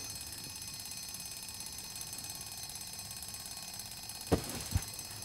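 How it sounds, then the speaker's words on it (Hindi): An alarm rings steadily and loudly in a room, a continuous electronic tone, with two brief knocks near the end. "अलार्म बंद कर दियो भाई।"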